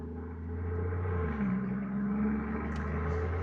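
A big engine in a Mercedes G65 6x6 or Lamborghini LM002 SUV runs at a steady idle, a deep throaty rumble, close and continuous with no talk over it.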